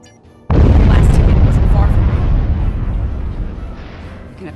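In the video game Star Trek Online, after a brief quiet start, a sudden heavy blast of gunfire and explosions erupts, loud and rumbling, then slowly fades into a sustained low roar.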